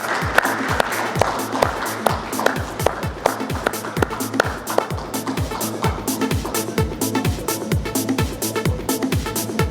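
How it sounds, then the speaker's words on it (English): An audience at a panel discussion on insurance and automation applauds a panel speaker, with steady rhythmic clapping that holds for the whole stretch, moderately loud and slightly distant, with faint voices beneath. "A big round of applause, ladies and gentlemen"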